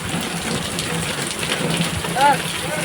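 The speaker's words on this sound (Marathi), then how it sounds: "किती जोरात पाऊस आहे" Heavy rain roars as a steady, dense hiss close by, with people talking faintly underneath and a brief tonal chirp near the end.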